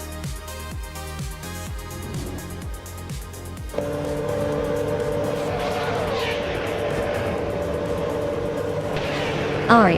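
A classic 1996 McLaren MP4/11 and other race cars in a racing game, engines revving through rising gear shifts, then a sustained high whine as the pack speeds along, loud and steady.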